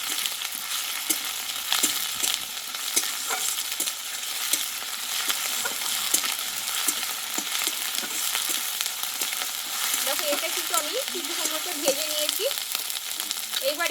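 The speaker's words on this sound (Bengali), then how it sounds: "আদা রসুন বেটে নিয়েছিলাম অর্ধেকটা দিয়েছিলাম আর অর্ধেকটা আমি রেখে দিয়েছি এবার দিয়ে দেবো এটা আমি একটু কষিয়ে নেবো" Ginger garlic paste sautés with fried onions in a pan for a Bengali ghugni, giving a steady, close sizzle with frequent spatula scrapes and taps and no voices.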